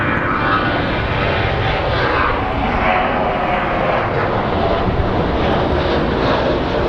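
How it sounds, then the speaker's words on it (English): A fixed-wing airliner taking off at Phoenix Sky Harbor International Airport, a loud, steady, broadband engine roar that fills the whole stretch without letting up. "And we will end the show by looking at this takeoff."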